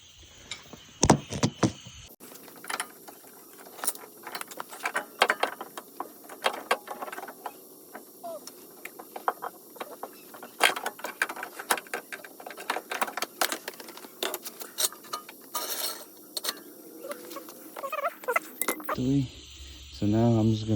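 On a 2022 Chrysler 300, a hand ratchet backs out the 13mm strut nuts in scattered bursts of close clicking and rattling, broken by short pauses, with speech at the start and end.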